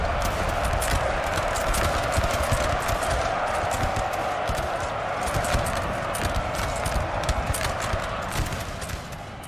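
Cavalry horses charge in the Napoleon Total War 3 video game, a steady rumble of many hoofbeats inside dense, loud battle noise that thins slightly at the end.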